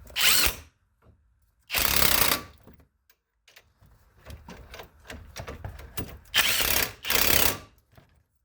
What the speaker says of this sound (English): Now we're going to zip the bolts back in.